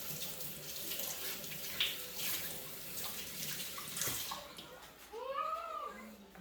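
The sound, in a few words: washing hands under running tap water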